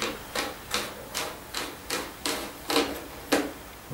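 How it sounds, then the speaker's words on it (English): Battery-powered motor in a toy horse racing game firing ball bearings, a steady mechanical rhythm of sharp clacks roughly every 0.4 seconds, close and fairly loud with no talking. "With batteries in it, you switch it on, and that drives a thingy that fires ball bearings"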